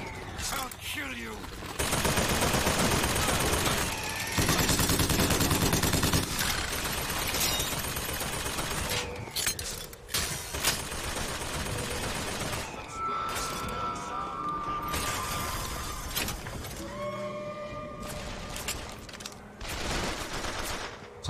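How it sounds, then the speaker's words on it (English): Crank gun in Bioshock Infinite firing in long, dense sustained bursts that dominate throughout, with crashing impacts and game effects layered over it and a voice heard at times. "Oh, crank gun. I'll kill you."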